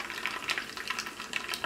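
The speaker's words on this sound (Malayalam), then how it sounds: "ഇപ്പോൾ ഉണക്കമുളകും പതുക്കൊന്നും മുരിഞ്ഞിട്ടുണ്ട്" Dried red chilies frying in hot coconut oil with mustard seeds for a Kerala jackfruit-seed and mango curry, a close, lively sizzle full of rapid crackles and small pops that keeps going without pause.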